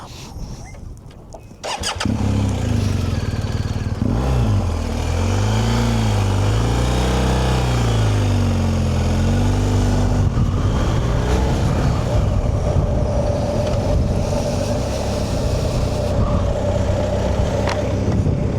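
A motorbike engine starts and settles into a loud, steady running drone while riding on a cold, windy road trip between Orkney and Shetland, with pitch shifting as it accelerates; no speech.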